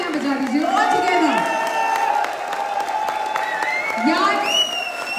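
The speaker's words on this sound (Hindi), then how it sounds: "तो दोनों हाथ ऊपर करके जोरदार तालियां बजा दीजिए" Audience at a wellness company anniversary event breaks into applause and cheering, a dense crowd clatter with whoops, while a voice talks over it.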